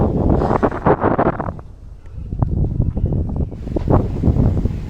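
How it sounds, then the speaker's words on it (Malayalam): Strong wind buffets the microphone on a hilltop in Palakkad, loud rumbling gusts that ease briefly in the middle and then surge again, with no talking. "അതുപോലെ തന്നെ നല്ല കാറ്റും ഉണ്ടായിരുന്നു"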